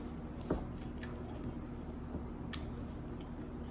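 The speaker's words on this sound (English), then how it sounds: "Sorry, I'm chewing." Wet, squishy chewing of Ghanaian-style Indomie instant noodles, with a few soft close bites and smacks over a quiet steady background and no talking.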